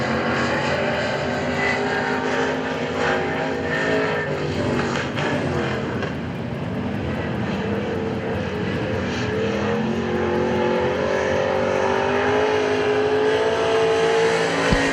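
A race car at Hagerstown Speedway runs a timed qualifying lap, its engine roaring loud and steady throughout, swelling and easing as it sweeps around the dirt oval.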